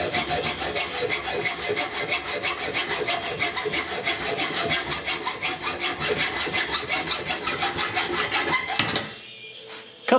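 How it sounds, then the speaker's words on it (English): A hacksaw cuts through a threaded bolt in steady, rapid back-and-forth strokes, loud and close, for about nine seconds before the sawing stops and it goes quiet. "we'll take a hacksaw"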